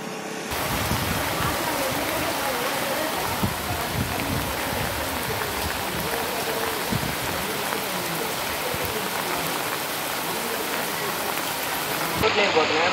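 Heavy rain pours over Tripurantakam with a dense, even hiss that holds steady for the whole stretch. The level stays loud and constant, with a brief louder burst at the very end.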